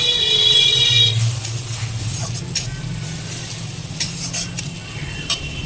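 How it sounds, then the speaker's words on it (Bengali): A spice paste of ground raw cumin is stir-fried for a taro-leaf dish, with a steady sizzle under repeated spatula scrapes and light metallic taps in the pan, plus a brief electrical hum at the start. "মশলাটাকে সুন্দরভাবে কষিয়ে নিতে হবে"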